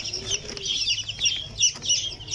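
Chickens in a small backyard coop, including Brahma and silkie birds, cluck and chatter in several short overlapping calls, close and fairly loud.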